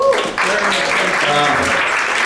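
A big round of applause from a live audience at a motivational stage show, loud and dense, filling the full stretch steadily with a faint musical tone underneath.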